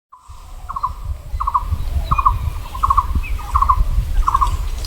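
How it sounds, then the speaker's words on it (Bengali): A male rose-ringed parakeet gives about six short, harsh calls at an even pace, moderately near, over a steady low rumble of background noise. "টিয়া পাখিটা এটা হচ্ছে রিংনেট টিয়া পাখি হয়, এটা হচ্ছে মানে মেলটা হয়, মেল টিয়া পাখিটা"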